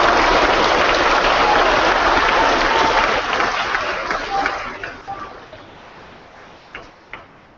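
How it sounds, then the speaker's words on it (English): Students in an Edmonton school give a visiting Canadian Olympian a round of applause: loud, dense clapping that fades over several seconds into a few scattered, trailing claps. "Let's give her a big round of applause."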